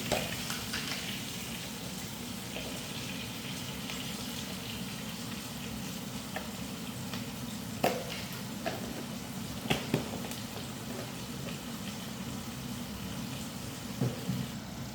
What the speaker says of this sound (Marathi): कांदा परतताना त्यात थोडंसं मीठ